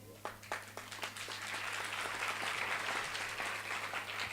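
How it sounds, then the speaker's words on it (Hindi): Applause from an audience gathered for a devotional Holi storytelling event starts with a few scattered claps and builds into a steady, dense patter of many hands over a constant low hum. "ग्वाल बालों ने ताली बजाई"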